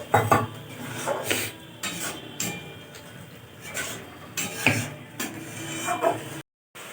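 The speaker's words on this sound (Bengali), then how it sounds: "দিয়ে এবার ভালো করে কষাবে একটু।" Spices being worked with cracked yogurt in a pan while cooking palak paneer, heard as repeated scraping and clinking of a utensil against the pan in uneven strokes, fairly close, with no talk.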